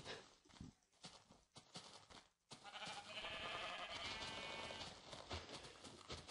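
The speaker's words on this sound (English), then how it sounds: "It's another sheep." Minecraft sheep bleats, with clip-clopping footsteps and game effects around them, moderately loud and continuous.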